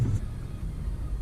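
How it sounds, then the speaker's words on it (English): Steady low rumble of heavy road traffic heard from inside a Tesla Model S P85, a continuous engine-and-road drone with no distinct passing events and no talk. "Tons of traffic."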